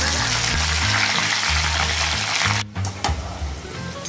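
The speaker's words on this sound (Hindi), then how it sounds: "फिर इसके अंदर हम बैचेस में करके अपना जो कटहल है उसको फ्राई करेंगे" Jackfruit pieces fry in batches in hot oil for a besan jackfruit dish, giving a loud, steady broadband sizzle. Near the end it briefly drops away, then resumes a little softer.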